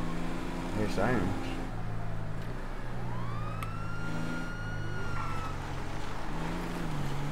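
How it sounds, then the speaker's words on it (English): Police sirens wail in a video game roleplay, a rising and falling electronic tone sweeping over a steady engine rumble, fairly loud and continuous throughout, with game background noise beneath. "Here's sirens."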